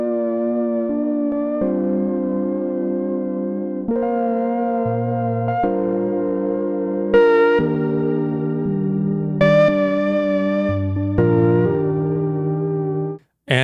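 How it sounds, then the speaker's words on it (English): A Serum synth lead, washed in plate reverb, plays sustained chord-like notes that shift pitch every second or two, loud and upfront, with no voices, cutting off abruptly at the end. "just going to add on a plate reverb, and let's now play this from the beginning"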